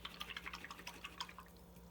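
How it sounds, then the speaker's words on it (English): Paintbrush rinsed in a water cup during an acrylic painting session, a faint run of soft, repeated dripping and swishing taps close by, with no talking. "Okay, wash your brush out"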